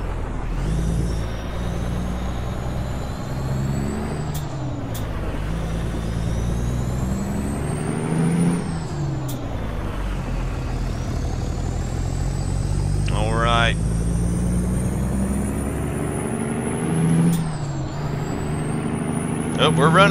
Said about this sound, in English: you guys are gonna love the Jake brake on this truck